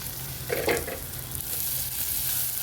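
Onion, shallots and ginger with salt sautéing in a pan for mackerel curry: continuous close sizzling with a brief burst of stirring near the start, no talking.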